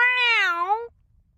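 A single clear, close meow from a cat, rising then falling in pitch and lasting under a second, followed by near silence.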